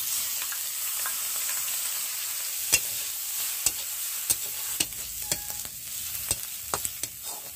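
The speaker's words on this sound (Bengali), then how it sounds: "চিংড়ি মাছগুলো ভেজে নিচ্ছি।" Shrimp frying in mustard oil in a wok, a steady close sizzle broken by sharp, irregular clicks and knocks of a utensil stirring against the pan, with no talking.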